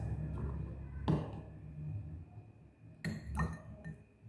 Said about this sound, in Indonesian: langkah kedua kita masukkan es batunya ke dalam gelas